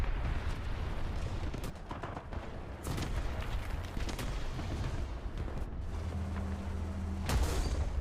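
Continuous battlefield gunfire in War Thunder around the early heavy tank Char FCM 2C, dense overlapping shots and booming cannon rumble filling the clip, with a steady low engine drone underneath and a sharp burst near the end.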